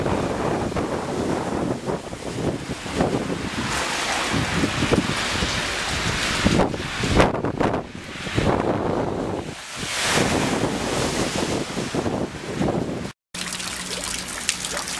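Water splashes and rushes continuously from a leak at a bridge during stormy, flooding weather, with heavy gusty wind noise buffeting the microphone, a steady outdoor wash of sound.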